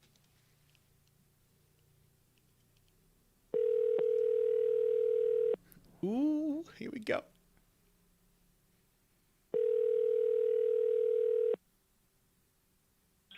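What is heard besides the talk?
telephone call ringing tone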